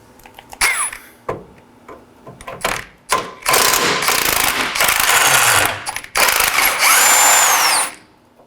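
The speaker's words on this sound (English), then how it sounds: "For the top, I'll be using a wrench" Power tool driving an 18mm control arm bolt on a 2013-2019 Nissan Sentra, heard as several short bursts followed by two long sustained whirring runs up close, with ratcheting clicks between.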